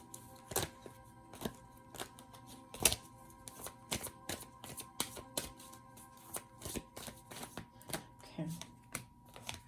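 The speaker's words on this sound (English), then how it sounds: "I'm going to pull a few cards here." Tarot cards are shuffled and pulled in quick, crisp clicks and riffles close to the microphone, a steady run of sharp taps with a brief spoken word in a quiet room.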